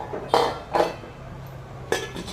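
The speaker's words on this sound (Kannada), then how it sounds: "ಲಿಡ್ ಕ್ಲೋಸ್ ಮಾಡಿ ನೋಡಿ ಸ್ನೇಹಿತರೆ." A metal lid is set down onto a pot of sweet corn and peanuts for boiling, giving three distinct clanks spaced over about two seconds, close and fairly loud with no talk.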